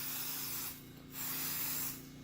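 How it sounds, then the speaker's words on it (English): Scanning spray hisses onto a denture in two bursts, each about a second long with a short pause between, close and fairly loud with no talking. "I'm just going to spray this denture down real good."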